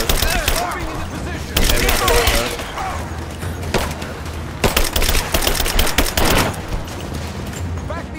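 Gunfire crackles in Rise of the Tomb Raider, with rapid overlapping bursts of automatic shots and sharp single cracks filling most of the stretch, loud and close, while a voice speaks over the fighting.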